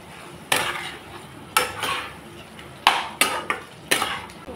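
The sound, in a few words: stir-frying boiled potato pieces with spices in a pan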